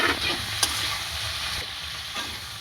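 Eggplant pieces fry in hot oil with turmeric and a pinch of salt, a dense close sizzle broken by a couple of sharp clicks of a stirring spoon against the pan.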